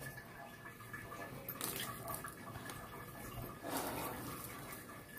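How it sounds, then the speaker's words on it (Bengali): Water leaks steadily from a toilet flush outlet in a small bathroom, a faint, continuous trickling hiss with a couple of slightly louder surges, no talking. "এই আউটলেটটা রয়েছে না, এটা দিয়ে জলটা পড়ে যাচ্ছে"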